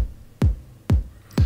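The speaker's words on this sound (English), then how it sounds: "And Mod Kick sounds like this." A modular synth kick drum, a Make Noise DPO, hits three times in a steady pulse, each thump a deep booming low tone with a sharp click at the attack, close and dry.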